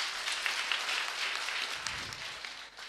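Audience applause from a crowd at an evening patriotism and national cohesion gathering in Kibra, Kenya; dense, steady clapping fills the whole stretch at moderate distance, with no voices over it.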